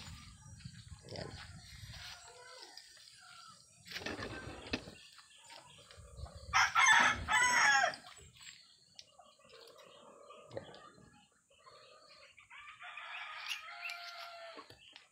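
A 5K Sweater gamecock rooster crossed with Gilmore Hatch lets out a loud crow near the middle, with other clucks and bird calls and faint background voices around it in a rural yard.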